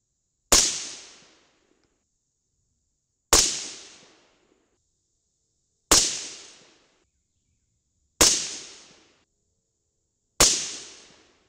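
Five sharp rifle shots from a .223 with an 18-inch White Oak Armament barrel, loaded with CCI 41 primers, fire at steady intervals of about two and a half seconds, each a loud crack with a short decaying tail and nothing between.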